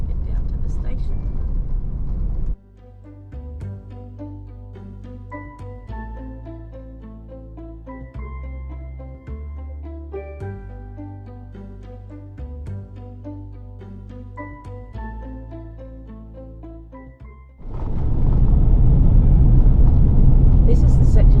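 A vehicle drives the corrugated gravel road between Tobermory and Jervois Station on the Outback's Plenty Highway. Loud broadband road rumble opens and closes the stretch, and music covers the long middle section.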